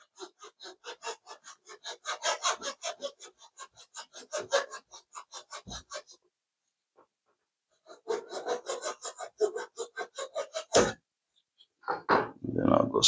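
A razor saw cuts a wooden wing panel for a giant-scale P-47 Razorback model airplane, making quick rhythmic rasping strokes in two bursts separated by a pause, close and fairly quiet.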